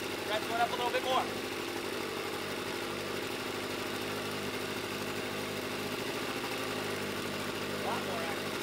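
A 1970 Evinrude 25 HP outboard motor runs steadily at a raised idle, a low continuous hum with a brief louder burst near the start, and faint voices now and then.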